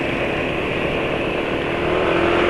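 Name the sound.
motorcycle engine running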